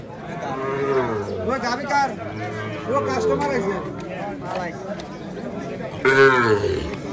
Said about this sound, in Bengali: এদিকে একটি দেশি গাভী দেখা যাচ্ছে